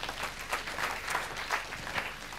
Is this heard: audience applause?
yes